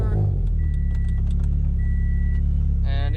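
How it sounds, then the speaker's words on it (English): A car engine, just back in service after a Mishimoto coolant install, runs with a loud, steady, close low rumble throughout, and a voice speaks briefly at the end. "And we'll just start this up and let it run for a while."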